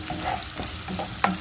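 Sautéed sardines and cabbage stirred in a hot pan, a continuous close sizzle broken by a few soft scraping stirs and one sharper clack near the end.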